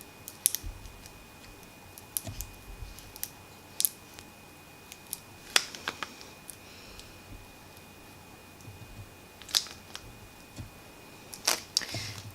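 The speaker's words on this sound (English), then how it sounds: "I always just go back and give it another scrape." Foil vinyl is scraped onto transfer tape with a craft tool, producing sparse, close, dry scratches and light ticks spread over a quiet background.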